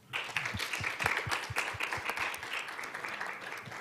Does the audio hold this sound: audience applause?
yes